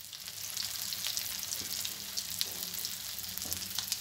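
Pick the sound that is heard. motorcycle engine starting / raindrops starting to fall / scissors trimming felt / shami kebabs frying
shami kebabs frying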